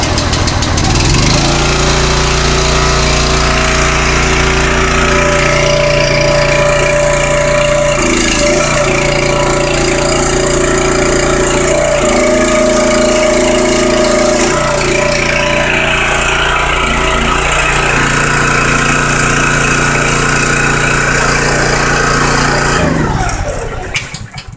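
The gasoline engine on a wood splitter runs loud and close for over twenty seconds, a steady mechanical drone that shifts in pitch a few times before it cuts off abruptly at the end.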